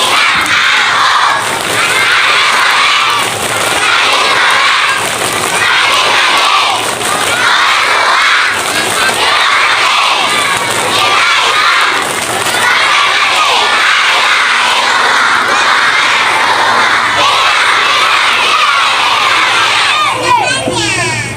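Group of children at an Islamic New Year gathering loudly shout and clap a rhythmic chant together, a dense, continuous crowd of young voices with steady clapping beats for about twenty seconds.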